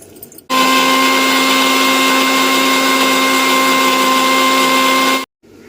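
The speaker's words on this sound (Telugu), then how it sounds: "మసాలా అయితే మిక్సీ వేస్తానండి" A mixer grinder blends fried onions and whole spices for a chicken curry masala. It is a loud, steady, close whirring drone that starts abruptly, runs for about five seconds and then cuts off.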